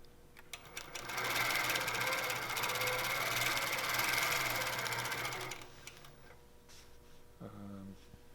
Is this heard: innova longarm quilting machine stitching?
yes